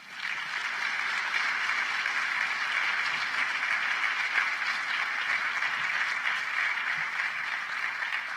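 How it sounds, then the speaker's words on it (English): An audience at a university president's celebration of life applauds the speakers, a dense, sustained round of clapping from a large crowd in a hall, steady and even for several seconds with no voices rising above it. "Let's give another round of applause for all of our speakers"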